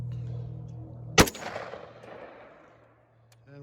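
One sharp gunshot from a 7.5-inch 300 Blackout AR pistol fitted with a thread protector cracks out at close range, followed by a short, fading echo tail in otherwise quiet surroundings.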